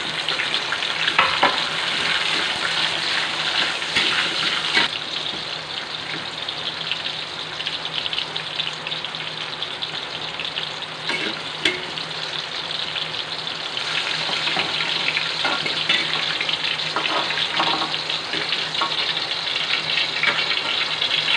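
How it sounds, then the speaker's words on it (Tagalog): Carrot and potato being sautéed in a pan for beef mechado give a steady, dense sizzle throughout, with occasional scraping and stirring clatter and no talk. "unang gagawin natin ay igigisa muna natin yung carrot and then potato."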